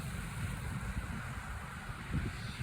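Steady wind buffets the microphone in a continuous low roar at a seaside fishing spot in Brighton, UK, with no voices.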